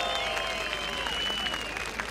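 A crowd of retirees claps at an outdoor opposition party rally in İzmir, a steady dense wash of applause with a few sustained whistle-like tones running over it.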